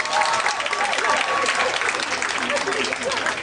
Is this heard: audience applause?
yes